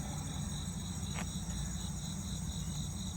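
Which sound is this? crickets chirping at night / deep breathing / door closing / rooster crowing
crickets chirping at night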